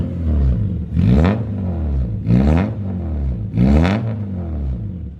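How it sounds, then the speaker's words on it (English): Honda Civic EF with a K20 engine and full 3-inch titanium exhaust with almost no muffler, revved three times in even succession, each rev rising sharply then falling back to a loud, raspy idle. "You want to go ahead and rev it a couple of times?"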